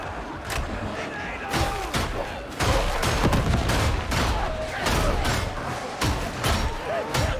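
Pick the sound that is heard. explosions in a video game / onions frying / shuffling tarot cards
explosions in a video game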